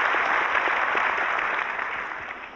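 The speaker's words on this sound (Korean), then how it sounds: "자, 느껴지면 박수 한번 쳐주시죠." A conference audience gives sustained, even applause that fills the room at close range and tapers slightly toward the end.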